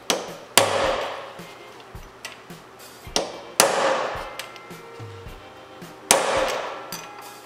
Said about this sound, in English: center punch it 2 or 3 times